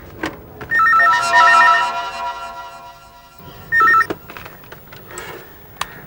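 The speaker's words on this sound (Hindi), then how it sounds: "लगता है उसी का फोन है" A telephone bell rings loudly in two bursts, a long ring followed by a shorter one after a pause, with faint clicks and rustling in between.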